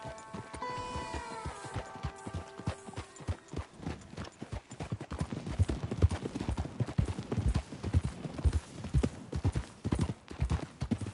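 Horse galloping in Red Dead Redemption 2, rapid rhythmic hoofbeats pounding close and loud after a brief opening snort and bridle jingle, continuing steadily to the end with no talk.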